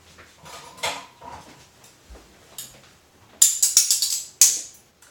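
Metal utensils clatter and clink in a kitchen as someone rummages for a spoon: scattered soft knocks, then a close, bright burst of jangling cutlery and a final sharp rattle.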